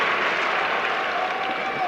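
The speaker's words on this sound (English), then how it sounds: "the crowd giving the Pep Band an appreciative round of applause" A basketball crowd in a college arena applauds the pep band, a broad, steady wash of clapping and crowd noise with no distinct individual claps standing out.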